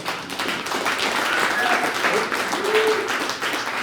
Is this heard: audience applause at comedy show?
yes